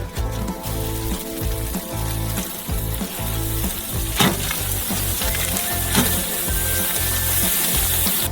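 Meat cutlets sizzling on a grill for homemade burgers: a steady, bright frying hiss that runs continuously under rhythmic background music, with a few faint clicks and no speech.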